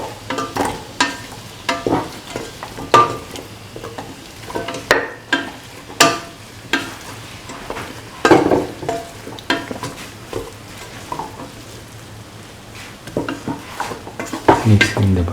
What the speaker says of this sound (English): Mixing the buttermilk pieces with the rest of the mixture.